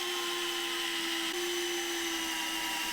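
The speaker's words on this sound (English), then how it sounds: "I think I'll drill the holes and then rotate it up." A power drill runs steadily while boring holes during work on a Firebird, a constant whirring motor tone with a slight dip in pitch midway, close and fairly quiet.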